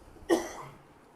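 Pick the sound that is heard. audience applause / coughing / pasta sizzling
coughing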